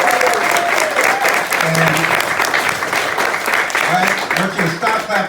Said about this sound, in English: I want you to stop clapping for me